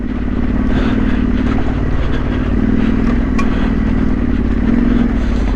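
A bigger motorcycle labouring up an incredibly rocky lane in the Yorkshire Dales, its engine droning loud and constant with rattling clatter from the stones, no pauses throughout.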